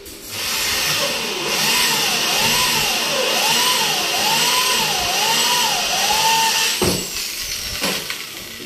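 A motor engine revs up and down in a steady wavering cycle, loud and close, then cuts off abruptly near the end.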